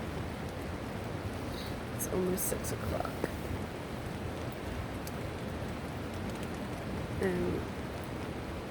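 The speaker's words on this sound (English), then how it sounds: "I'm sure you can hear that the rain is like a river" Steady rain pours outside in a dense, constant hiss on the Pacific Crest Trail in Washington while a person speaks softly, almost whispering, over it.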